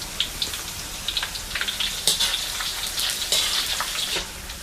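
Potato chip slices deep-frying in hot oil with pandan leaves, a steady crackling sizzle with dense popping bursts throughout, close and fairly loud, no voices.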